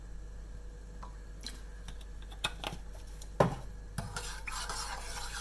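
A spoon stirs a Vietnamese three-colour dessert mixture with vanilla extract in a pot, giving faint scrapes and a few sharper clinks over a steady low hum, closing in a soft wet swirl.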